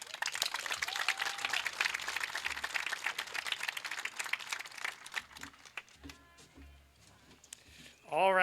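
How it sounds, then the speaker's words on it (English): An audience claps at an 8th grade culmination ceremony, steady dense applause that thins out toward the end as a voice starts speaking, with a squeal of amplified feedback at the close. "I know that you are truly clapping for the closing statements"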